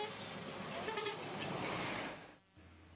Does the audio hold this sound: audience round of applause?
no